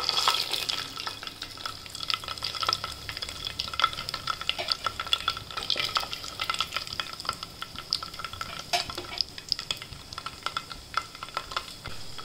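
Peanuts, cashews and chillies fry in hot oil over mustard seeds and cumin for mint rice, a dense crackling sizzle with frequent sharp pops and spatula stirring throughout, close and steady.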